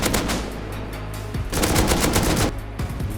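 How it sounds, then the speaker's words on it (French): An M2 machine gun fires in the Rust video game, loud, continuous automatic bursts with a short break in the middle, heard without talk. "Ils vont entendre tirer à la M2, ils vont pas être bien."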